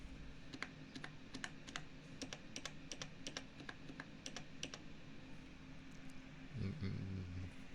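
Close typing on a computer keyboard, with quick irregular clusters of crisp key clicks and a few isolated presses as individual keys are tested, ending in a brief low murmur of voice.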